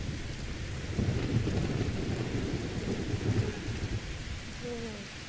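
Heavy rain and rolling thunder from a storm in the video game The Elder Scrolls V: Skyrim Anniversary Edition, a loud steady downpour with low rumbling throughout and no voices.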